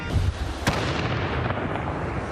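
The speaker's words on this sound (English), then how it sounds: "Each explosion bigger and louder than the last." A controlled detonation by a police tactical and bomb unit in a city street: a sharp, loud blast booms out, followed by rumbling echoes and lingering low noise.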